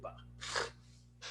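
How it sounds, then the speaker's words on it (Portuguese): A person sneezes indoors during an online lecture: a sharp gasping intake, then a burst of a sneeze, followed by a second shorter snort, all close to the microphone. "Peraí que eu vou espirrar de novo."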